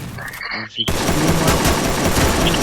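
Video game gunfire from Free Fire, a dense stream of rapid automatic shots that rings loud and continuous after a brief burst of game sounds at the start.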